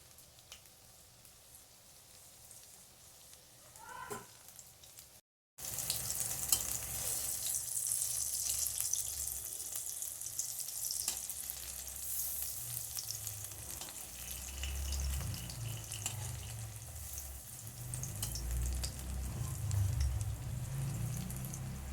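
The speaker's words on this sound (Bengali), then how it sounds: "লাল লাল করে ভেজে নিতে হবে" Matar dal bora, pea lentil fritters, deep-frying in hot oil with a steady, dense sizzle and bubbling that starts abruptly after a few quiet seconds and continues close and fairly loud.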